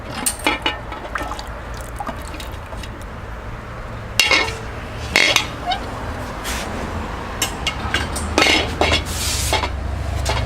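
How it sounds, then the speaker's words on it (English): Lid lifted off a Brew Monk beer brewing pot after the mash, with metallic clanks and clatter and some sloshing liquid and dripping, sounding close and fairly loud with no talking. "And I'll take the lid off."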